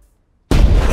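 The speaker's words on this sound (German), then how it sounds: "Warum feuerst du eine Kanone ab?" After half a second of silence, a sudden loud cannon blast booms out and keeps rumbling heavily to the end.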